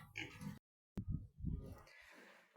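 Pigs in a farm barn, a sow with piglets, give soft, close oinks and low grunts in short bursts, broken by a brief silent gap midway.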